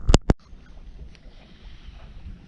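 A sailboat glides over an almost flat sea in light wind, with a low steady wash of water and breeze along the hull after two sharp knocks at the start.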